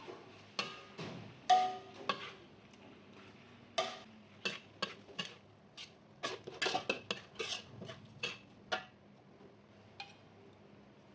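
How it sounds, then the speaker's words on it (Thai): Mussels being stir-fried with curry paste in a pan, a spatula clattering and scraping against the metal in irregular knocks over a faint sizzle, close and with no talking. "หอยมะแรงผู้ลงไปครับ แล้วก็ผัดให้เข้ากันครับ"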